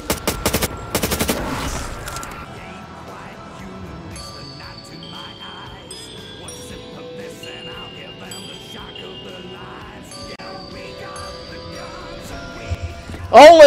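Rapid bursts of automatic gunfire from a zombies video game in a one-window challenge, loud and dense in the first second or so, then giving way to softer in-game tones and effects.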